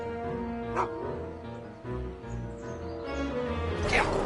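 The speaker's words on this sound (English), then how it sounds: "Get away from me, you crazy mutt. Go away, dog." Dog in the Back to the Future video game giving a few sharp barks and yips over a background music bed, with an excited bark near the start and another near the end.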